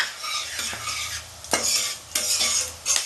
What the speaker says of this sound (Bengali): তেজপাতাও দিয়ে দিলাম আমি গোটা গরম মশলাগুলো দিয়ে দিলাম